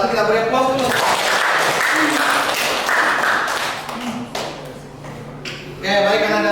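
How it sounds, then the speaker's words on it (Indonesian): An audience gives a brief round of applause for a presenting group, with scattered hand claps mixed in among voices talking. "Kita beri aplaus dulu."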